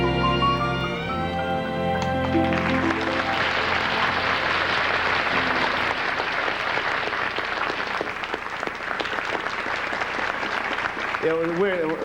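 Applause from a television studio audience follows the end of a song with sustained singing, then steady clapping continues for several seconds before a voice speaks.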